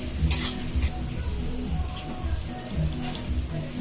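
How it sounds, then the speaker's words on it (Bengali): Onions fry in hot oil for a mutton kosha, sizzling steadily up close while a spoon stirs and scrapes against the pan in bursts. "পেঁয়াজ ভাজা হচ্ছে এখন"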